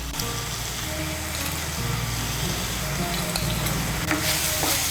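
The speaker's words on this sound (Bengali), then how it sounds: "মিশিয়ে নিয়ে মশলাটাকে একটু কষিয়ে নেব" Spice paste mixed with ground spices and salt sizzles steadily in a hot pan while being stirred, a close, dense frying hiss throughout with a low hum underneath.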